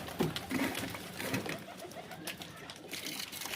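Pigeons in a rooftop loft coo softly close by, a few low throaty calls over rustling and background noise.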